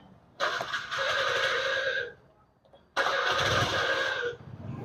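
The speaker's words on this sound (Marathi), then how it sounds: "आता गाडी आपली बंद आहे ऑन करायची" A scooty scooter's engine is started twice, each a loud close burst of cranking and engine noise lasting over a second, with a brief quiet gap between the two attempts.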